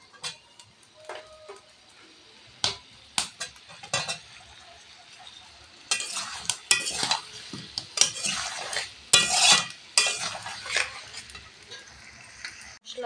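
Raw onion going into a pan for a chicken curry, with sharp metal spatula scrapes and clinks over a faint background sizzle, the stirring growing busier and louder toward the end.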